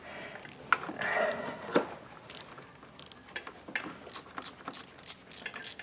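Quarter-inch drive ratchet backing out valve cover bolts on the rear head of a 3.8L 2001 Buick Park Avenue, rapid close clicking bursts in several short runs with metallic taps between.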